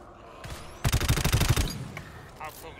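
A machine gun fires in the co-op shooter GTFO: a rapid, loud burst of evenly spaced shots lasting under a second, preceded and followed by quieter single cracks and faint game noise.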